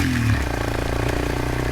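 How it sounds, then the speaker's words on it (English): Up close, a motorcycle engine runs steadily on a dirt road with a dense, continuous throb and rattle. "I'm driving a motorcycle."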